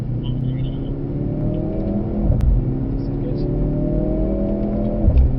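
A Mercedes-AMG C63S E-Performance W206 accelerates on a track, its engine note climbing steadily through each gear with brief dips at the shifts, heard from inside the car while people talk over it.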